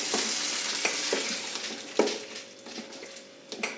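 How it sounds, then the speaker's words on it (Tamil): A spoon stirs fried tempering through thick adai dosa batter, with repeated scraping and knocking strokes against the vessel over a soft sizzling hiss, close by and steady. "தாளித்து போட்டு நல்லா கிண்டிக்கோங்க"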